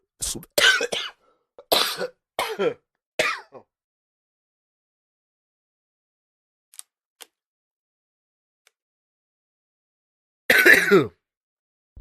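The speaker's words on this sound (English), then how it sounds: "it's because I was coughing" A person coughs repeatedly in harsh bursts, then goes quiet with a couple of tiny clicks before one more loud cough near the end.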